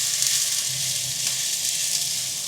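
A crisp dosa cooked in sesame oil on a hot pan gives off a steady, close hiss of frying that holds evenly throughout.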